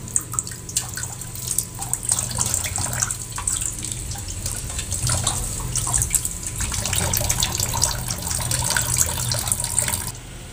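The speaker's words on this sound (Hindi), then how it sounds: "ये आलू बुखारा धुल चुका है।" Plums are washed under running tap water in a kitchen sink, a continuous splashing flow broken by irregular drips and spatters as the fruit is handled, fairly close and loud with no voices.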